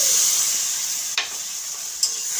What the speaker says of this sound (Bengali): আর দুধ দিয়ে ভালো করে নেড়ে চেড়ে নিতে হবে, নাহলে দানা পেকে যাবে